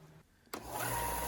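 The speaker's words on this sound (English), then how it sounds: "Then I just use the disc sander to round them down to the lines" A disc sander starts up and runs, rounding over the corners of wooden pieces: a quiet lead-in, then a sharp onset into a loud, steady whirring grind.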